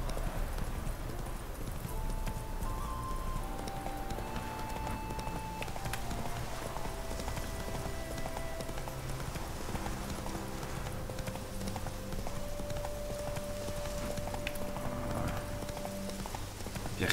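Hooves clip-clop in a quick, steady rhythm as a horse gallops in The Witcher 3, with sustained tonal music playing underneath throughout.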